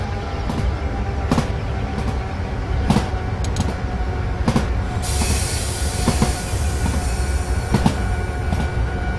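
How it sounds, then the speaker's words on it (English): A JNR 103 Series electric train runs past in Train Simulator 2016 on the Wakayama and Sakurai lines, with a steady loud rumble, rhythmic wheel clacks and a brief wheel squeal, and no talk. "imagine these trains running past your bedroom at 2 AM every night"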